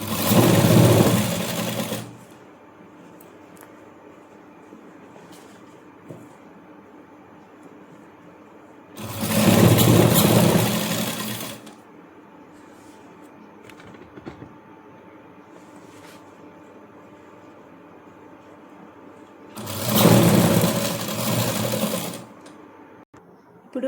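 Three separate bursts of a sewing machine stitching the folded-under edge of a child's scalloped skirt, each loud run lasting about two seconds with quiet pauses between them.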